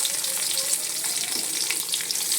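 Onions sizzle and fry in hot oil with mustard seeds, cumin and curry leaves for a North Karnataka field bean palya, a steady close crackling hiss with small pops and light stirring.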